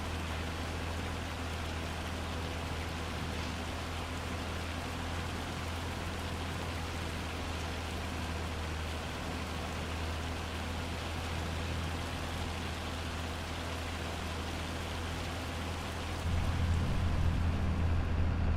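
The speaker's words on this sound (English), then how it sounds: "if it's pouring rain like this, I mean really coming down" Heavy rain pours steadily on a tractor cab in Farming Simulator 25, a dense, even hiss with a low drone beneath that thickens near the end.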